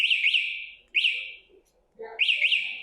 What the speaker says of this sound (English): if somebody goes to roll it away, it's going to sound the alarm